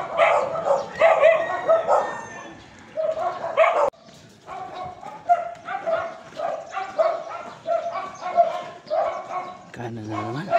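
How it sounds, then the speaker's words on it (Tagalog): Many dogs barking and yipping in bursts during a morning walk outdoors, several loud nearby barks and some whimpering mixed together, with occasional voices underneath. "Dami aso."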